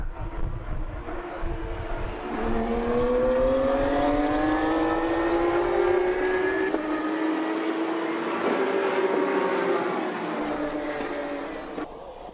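Porsche Cup Asia race cars at Shanghai Circuit pass by with a loud, sustained engine note that rises in pitch through a long run, then fades slightly toward the end, with no voices.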